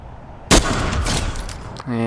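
A single loud sniper rifle shot in Fortnite cracks out sharply, then trails off in a decaying tail, with a brief voice-like sound near the end.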